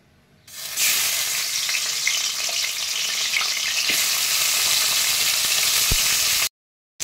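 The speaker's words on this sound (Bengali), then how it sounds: "এবারে মাছের মাথাগুলো আমি ভেজে নেব" Hilsa fish heads fry in hot oil in a wok, giving a loud, steady, dense sizzle that starts abruptly and continues evenly with occasional faint stirring clatter before cutting off.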